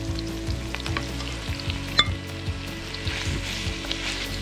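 Spicy tuna belly sisig sizzles in a hot pan outdoors, a steady close crackle with scattered clinks and scrapes from stirring.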